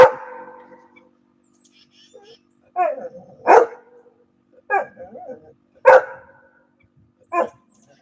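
A dog gives a short series of sharp barks and yips, about five separate bursts spaced irregularly with silence between, close and fairly loud.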